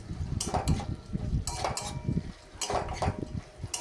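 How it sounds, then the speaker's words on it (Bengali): Fried potato and brinjal are stirred with spices in a metal wok, making repeated scraping and clinking from a spatula in an uneven rhythm, close and moderately quiet. "আলু বেগুনটাকে মশলার সাথে ভালো করে নেড়ে চেড়ে মিক্স করে নেব।"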